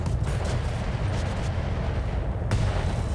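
Missile weapons fire in a BattleTech-style mech combat game: a steady, heavy roar of rumbling launches and blasts runs the whole few seconds, loud and close, with no talking over it.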